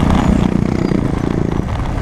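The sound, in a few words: Bajaj Dominar motorcycle with cheap aftermarket exhaust passing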